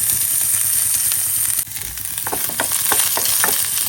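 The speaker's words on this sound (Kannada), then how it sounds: "ಇದನ್ನು ಫ್ರೈ ಮಾಡ್ಕೊಳ್ತಾ ಇರಬೇಕು. ಲೋ ಫ್ಲೇಮ್ ಇಟ್ಕೊಂಡು ಫ್ರೈ ಮಾಡಿಕೊಂಡ್ರೆ ಸಾಕು." Garlic, ginger and onion frying over low flame in a pan, a steady close sizzle with scraping stir strokes growing busier in the second half; no talking.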